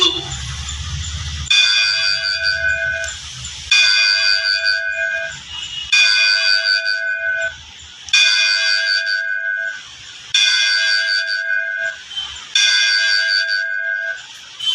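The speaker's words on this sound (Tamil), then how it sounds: "அருள்மிகு ஸ்ரீ கற்பக பிள்ளையார் திருக்கோயில் மணியோசை" Temple bell at Sri Karpaga Pillaiyar temple in Thiruvalluvar Nagar, Karaikudi, struck in a steady repeating pattern of bright, ringing metallic chimes about every two seconds, loud and close with long sustained overtones, alone without voices.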